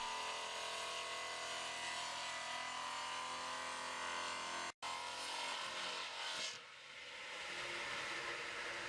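A high-speed double-action saw running 200 double strokes cuts a birch log at a sawmill, a dense, harsh rasping drone with one abrupt brief dropout, then easing off and softening near the end.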